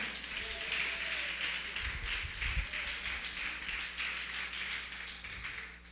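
A church congregation claps during a sermon, distinct rhythmic hand claps repeating steadily at moderate loudness, with low rumbles and faint murmuring beneath.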